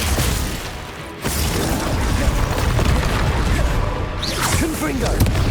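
The Glacius freezing spell is cast in Hogwarts Legacy amid combat, a sustained loud whooshing and crackling rush with mechanical clatter and a brief dip before it surges again, with in-game voices beneath.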